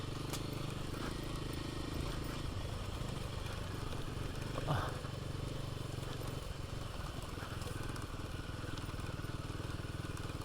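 Royal Enfield Himalayan 450 motorcycle engine climbing an uphill trail, a steady close drone with uneven throttle and no clear revving peaks, plus a brief click or knock partway through.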